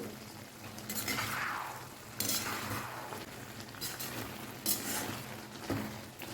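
A spoon scrapes and clinks through tomatoes and chillies in a pan while making a tomato-chilli chutney, several irregular stirring strokes with soft sizzling between them, close and moderately quiet.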